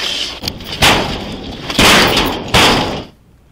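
Police forcing a locked garage door during an emergency: three heavy, loud slamming impacts with rattling crashes, spaced roughly a second apart, followed by a quieter tail.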